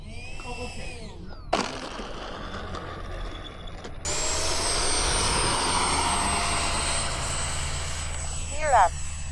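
A model airplane engine flying at Fritz Field, a steady buzzing drone that grows louder partway through and stays strong, with faint background chatter and a brief pitch sweep near the end.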